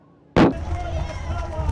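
A starting cannon fires at the Mount Washington Road Race, a single sharp, loud boom that cuts in suddenly, followed by a sustained outdoor rumble of the crowd and surroundings.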